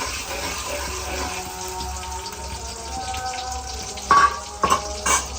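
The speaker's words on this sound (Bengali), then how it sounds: "এই রসুনটা সবগুলা হচ্ছে তেলে দিয়ে দিচ্ছি। রসুন দিয়ে দিলে সরিষার তেলের মধ্যে আবার ফেনা উঠে যায়।" Garlic fries in mustard oil for mango pickle, a soft, steady bubbling sizzle close by, then a few sharp clinks and scrapes of stirring near the end. No voices.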